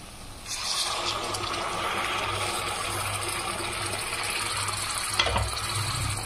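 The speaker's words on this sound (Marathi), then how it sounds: "थोडंसं पाणी टाकून घेऊ मध्ये" A splash of water goes into a pan of frying spices for an egg curry, setting off a sudden steady bubbling sizzle that holds evenly throughout.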